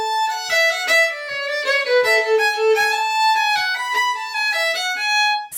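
Solo fiddle playing a B part variation of the traditional Irish reel The Reconciliation, quick bowed notes with string crossings in a lively steady rhythm, clear and close with no talking.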